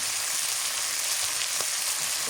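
Country chicken frying in a pan with spices and ginger paste, a steady dense sizzle that holds unbroken and fairly loud throughout with no voices.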